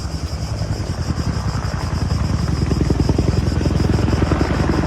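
A water-bombing firefighting helicopter's rotor thumps in a steady rapid pulse over a dense engine roar, loud and close, with no voices.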